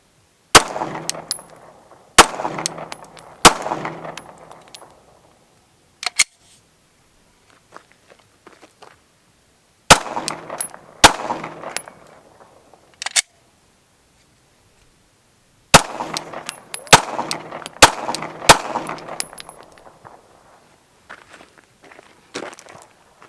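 Sharp, loud shots from a Gen5 Glock pistol come in clusters, with a few spaced rounds at first, then a quick burst of several near the middle and a rapid string near the end, each followed by a short ringing decay and quiet gaps between.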